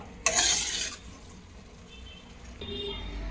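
A spoon scrapes and stirs vegetable sandwich masala in a hot pan, a brisk close stirring burst followed by a low, steady sizzle of the mixture cooking.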